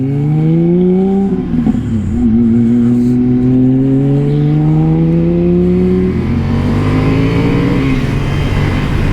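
A powerful Porsche sports car engine revs loudly up close from the rear, pitch climbing and holding, dipping, then rising again as the throttle swells.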